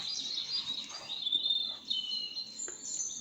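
An oriole sings in a continuous stream of bright, high twittering trills and chirps that hold steady throughout at moderate loudness, with no voices over it.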